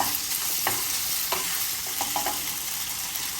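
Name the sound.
pork stir-frying, turned with a wooden spoon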